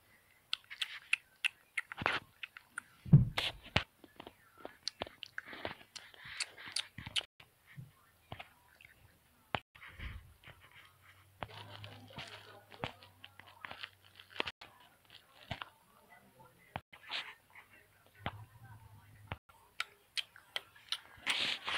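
Crunchy bites and chewing of a snack with orange cream filling, close and quiet, with repeated crisp crunches and soft mouth sounds in an otherwise hushed setting.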